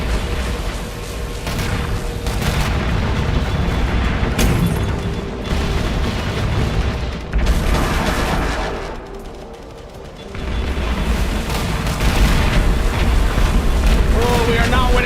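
An ion cannon in the video game Angels Fall First charges and fires amid a dense battle of heavy booms and gunfire, loud and continuous, with a voice speaking over it.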